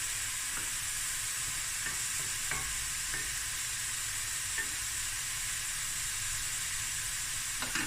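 Onions sweating down in a pot for a sausage stew, a constant soft hiss and sizzle with a few faint clicks of stirring, steady and unbroken throughout.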